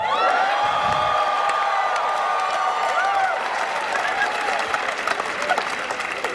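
A loud comedy show audience at a Maz Jobrani Persian New Year set applauding and cheering, with whoops and shouts rising over steady clapping that continues throughout.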